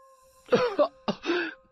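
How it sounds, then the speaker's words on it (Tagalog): Two short, rough coughing bursts, close and fairly loud, with a brief pause between them, over a faint steady hum. "Ayan, inatake ka na naman ng ubo mo."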